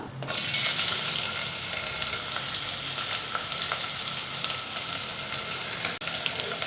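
Thinly sliced onions fry in hot oil tempering for a vegetarian salna, giving a steady, loud sizzle that runs continuously with a few faint clinks and no talk.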